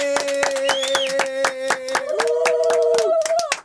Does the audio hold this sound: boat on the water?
no